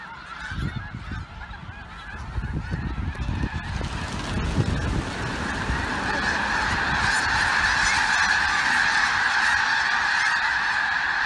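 A huge flock of snow geese, thousands of birds near Mount Vernon, Washington, honking loudly as they are flushed. The clamor starts ragged and close, then swells into a continuous dense chorus of overlapping honks.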